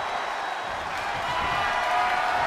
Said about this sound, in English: With every move you make, you hear this capacity crowd following you on that journey